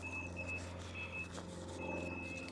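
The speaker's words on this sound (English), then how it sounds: "As long as the alarm's going off, it ain't mine." An alarm sounds nearby on a carp fishing bank in Essex, UK, with repeated high electronic beeps in bursts over steady low traffic or engine rumble.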